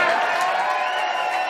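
A television studio audience reacts to a comedy talk show bit with a loud burst of crowd noise, cheering and scattered whoops mixed with some clapping, brief and close.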